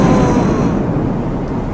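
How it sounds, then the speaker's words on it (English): A thunder rumble during a lightning storm in a hurricane, loud, deep and close, rolling steadily and fading slightly over a brief span with no voices. "It is storming with lightning."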